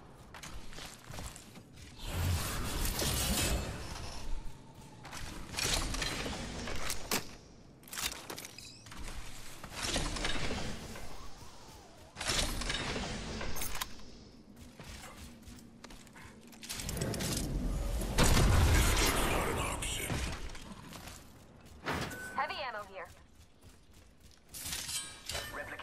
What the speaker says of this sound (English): Care package being delivered.